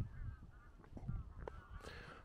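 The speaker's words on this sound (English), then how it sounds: "I hear a lot of geese in the distance" Faint, distant honking from a flock of geese, several overlapping calls over a low rumble of wind.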